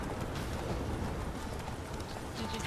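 Roach, the horse in The Witcher 3, galloping with a fast, steady clatter of hooves on the ground, fairly faint under a broad background wash.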